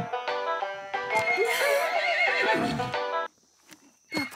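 Horses whinny loudly and repeatedly nearby in a stable, long shrill neighs rising and falling, then a short pause before another horse calls out.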